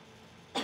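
A patient gives a single short cough near the end of a quiet moment during an in-office labiaplasty procedure, sudden and fairly close after near silence.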